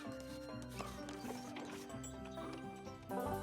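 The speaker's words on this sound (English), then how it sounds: "And those there are horse-drawn carriages." A horse-drawn carriage in a cartoon gives a quiet, rhythmic clip-clop of hooves mixed with creaking, ratcheting mechanical sounds and background music.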